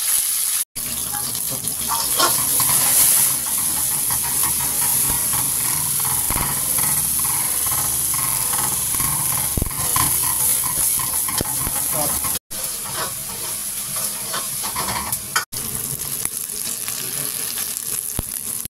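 Onions sizzle in hot refined oil for mutton kabab kanti, a steady loud frying hiss with scraping stirs, interrupted by a few abrupt cuts.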